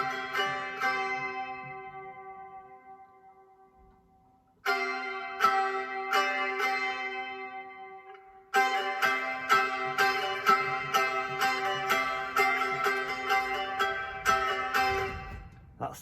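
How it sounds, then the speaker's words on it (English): Small Greek baglan strings pick out a bright riff. A sustained strum decays for several seconds, then it restarts. Faster repeated plucking follows at a close, clear, moderate level, with no talking. "Now the baglan is a little Greek instrument"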